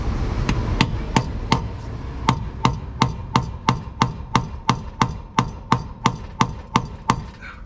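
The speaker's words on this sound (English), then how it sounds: "I don't really want to hammer on this ratchet." A hammer taps a ratchet and socket to loosen the wheel nuts on a 1962 Ford Econoline van, giving about twenty sharp metallic knocks in a steady, quickening rhythm, close and clear.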